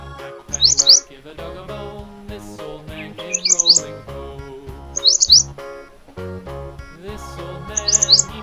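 Bulbul chirps ring out in short, bright bursts about every two to three seconds, sitting over a steady backing of music.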